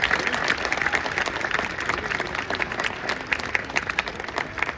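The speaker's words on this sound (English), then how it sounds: "A big round of applause for all of you." An audience claps at a school Annual Sports Day, loud and continuous at first, then thinning into scattered individual claps toward the end.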